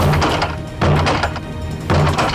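Heavy repeated thuds against the locked basement door as someone tries to break it open, three loud blows spaced about a second apart.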